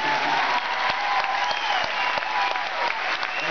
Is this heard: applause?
yes